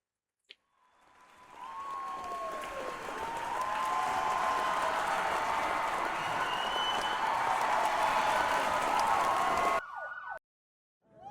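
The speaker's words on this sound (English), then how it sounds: "From here, you can't tell if they're booing or cheering." A large video game crowd at a casino stage yells loudly from a distance, a broad continuous roar that may be booing or cheering. It swells over several seconds, holds steady, then cuts off abruptly, with faint whistle-like tones above.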